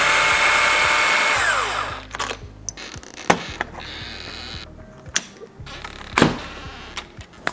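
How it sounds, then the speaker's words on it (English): A power drill bores a hole through a door for a handle, whining loudly and steadily for about two seconds before winding down, followed by scattered knocks and taps as the work continues. "I'm probably gonna have to drill a hole for the handle"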